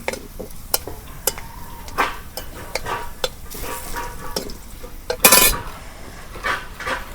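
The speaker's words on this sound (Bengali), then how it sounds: "রসুনটা আমার নাল নাল হচ্ছে, এখন বাগার দিই।" Garlic tempering in hot oil in a pan for a Bengali bata fish curry with eggplant and potato, soft sizzling under repeated sharp metal spoon clinks and scrapes against the pot, one louder burst of frying near the end.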